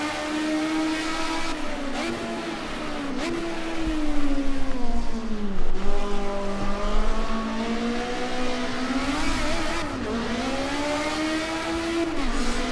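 A Ford Cosworth Group A touring race car accelerating at Sanoma GP, its engine note climbing and dropping through gear changes while the driver fights wheel spin. The roar is loud and steady, with no talking.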